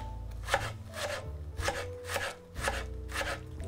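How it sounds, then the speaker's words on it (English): A very sharp serrated tomato knife cuts a tomato into thin slices, making about seven crisp, evenly spaced chopping taps against a board, close and clear with no talking. "now I'm using a really sharp serrated tomato knife, and I'm slicing these pieces"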